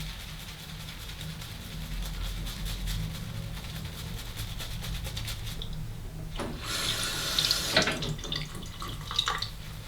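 Water runs from a tap while a straight razor shave is underway, a soft steady flow that grows louder and splashier toward the end, with no talking.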